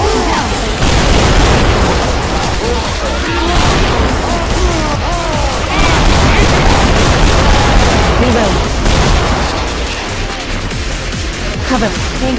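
Grenade blast and sustained gunfire in Left 4 Dead 2, a loud, dense barrage of rapid shots and booms with voices shouting between them.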